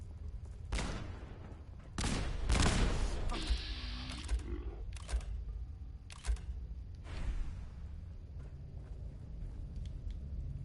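Gunshots aimed at a trash can in Fallout 4: several sharp, loud cracks clustered early, then a few isolated shots, with metallic clatter and a rumbling, echoing ambience underneath.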